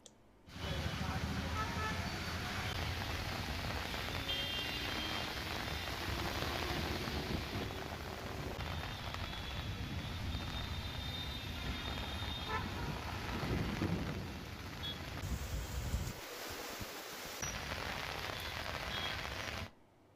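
Heavy rain pours steadily in Telangana, a dense continuous hiss and roar from start to finish, with a low rumble and some traffic sound mixed in underneath.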